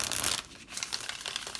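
A deck of tarot cards being shuffled, a brief crisp riffling and crinkling rustle that pauses and resumes, close and fairly quiet.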